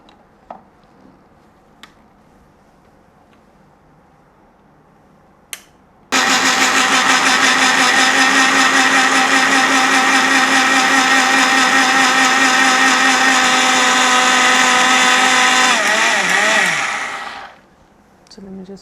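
A blender processing wafer paper soaked in water inside jars starts abruptly and runs as a loud, steady whirring drone for about ten seconds, then winds down and stops.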